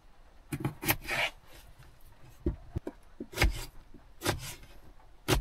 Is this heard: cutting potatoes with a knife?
yes